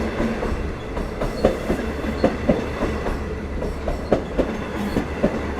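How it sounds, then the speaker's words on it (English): Long Island Rail Road's Cannonball passenger train with Kawasaki C3 bi-level coaches rolls past at Westhampton, a loud steady rumble with rhythmic clickety-clack of wheels over rail joints throughout. "Kawasaki C3 bi-level passenger coaches"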